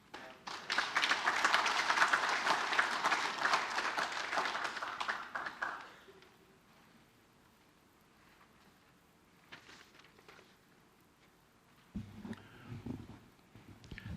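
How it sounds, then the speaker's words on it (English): An audience at an entrepreneurial fair applauds after a talk, a dense burst of clapping for about six seconds that fades into quiet room tone with scattered faint sounds and a voice near the end. "Could we just give him a round of applause again, please?"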